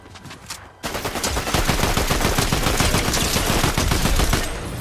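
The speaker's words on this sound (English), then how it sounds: "Oh, you gotta shoot that guy a lot." Rapid bursts of automatic gunfire from a video game firefight, loud and sustained for several seconds after a brief quieter opening, with dense overlapping shots and no talk over it.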